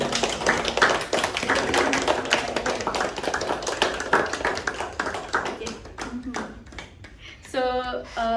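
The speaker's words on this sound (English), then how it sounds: "can we have another applause for our project?" A group at an event review meeting claps for their project, a fairly close burst of applause with distinct individual claps that thins out before someone starts speaking over the tail end.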